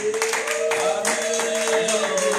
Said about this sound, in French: Acclamons le Seigneur. Acclamons avec joie.